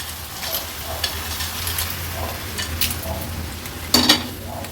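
Prawns, squid, clams and lobster sauté in spiced masala for an Agri Koli mixed-fish dish, with a continuous sizzle and occasional scraping stirs that grow louder near the end.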